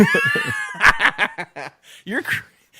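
A cat's drawn-out meow in an office, close and loud, followed by short choppy vocal bursts that may be a person mimicking it.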